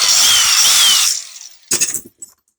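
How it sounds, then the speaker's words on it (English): Small handheld angle grinder shaving the threads off a bolt on a bracket for an old Club Car golf cart, a loud steady whine that cuts off after about a second, followed by brief clanks and scrapes. "I took my trusty little grinder here"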